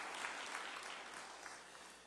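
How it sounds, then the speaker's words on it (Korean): A church congregation claps steadily to welcome members back at a Sunday service, a soft, even wash of many hands heard from a distance throughout. "우리 좀 건강하시라고 우리 박수로 한번 우리 환영하시겠습니다."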